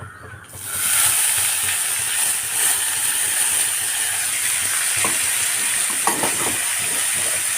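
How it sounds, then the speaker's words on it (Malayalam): Shredded violet cabbage drops into a hot pan with curry leaves and breaks into a loud, steady sizzle, with scraping stirring strokes and occasional clinks close by, no talking. "ഇനി ഇതിലേക്ക് നമ്മൾ കൂട്ടി വെച്ച കേബേജ് ഇട്ട് കൊടുക്കാം"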